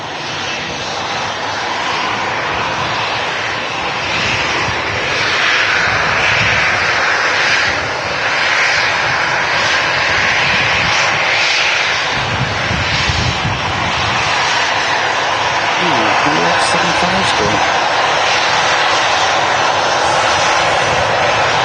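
A Jet2 airliner arrives at Manchester Airport, its engines producing a loud, sustained roar that holds steady and swells slightly as it nears, with no talk over it.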